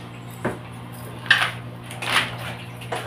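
A spoon scrapes and clinks against a pot of ginisang monggo, a Filipino mung bean stew with pork chicharon, in a few separate bursts over a low steady kitchen hum, with no talking.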